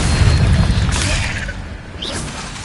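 An Incendio fire spell in Hogwarts Legacy erupts in a heavy booming blast with a rushing whoosh, slowly fading into a brighter flickering tail and a short high swish near the end.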